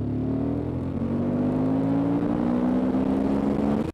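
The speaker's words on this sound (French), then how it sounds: "De mi-régime jusqu'au rupteur, le moteur révèle un tempérament sportif, au couple omniprésent." A Suzuki V-Strom 1050 XT motorcycle engine accelerates hard, its loud, steady drone climbing smoothly in pitch for about four seconds before cutting off abruptly.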